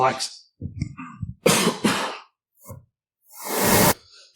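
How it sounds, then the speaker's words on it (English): A person coughs several times close up, with harsh bursts, a throat clear, and a long forceful exhale between short breaths. "I'm not doing well with this coughing and this throat, am I?"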